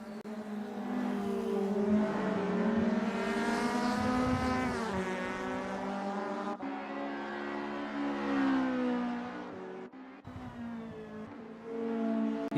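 Race cars in the SRA 2025 GTi Challenge: engines drone steadily with tones that climb and fall through gear changes, close and continuous, with a short break before the roar resumes.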